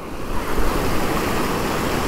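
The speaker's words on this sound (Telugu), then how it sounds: "వాటర్ చాలా హెవీ వస్తుంది బా" Heavy floodwater after intense rains rushes past as a loud, continuous roar of churning water, close to the listener. It drowns out everything else, and no one speaks.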